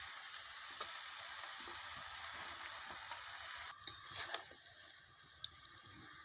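Pumpkin, potato and malabar spinach leaves frying in a pan for a prawn dish, a steady soft sizzle running throughout with a few sharper stirring clinks near the end, no voices.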